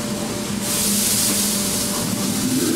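Sauce of sesame oil, vinegar, sugar and starch poured into a hot pan with fish over high heat, breaking into a sudden loud, hissing sizzle that holds steady and close.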